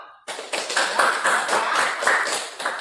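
Classmates clap for two students who answered a question in a school lesson, a burst of hand claps starting abruptly and continuing steadily, close and fairly loud, with no talk over it.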